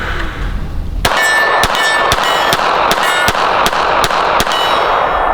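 A Sig Sauer P365 pistol fires a quick string of about nine sharp, loud shots at an even pace, each a hard crack with a short ringing tail.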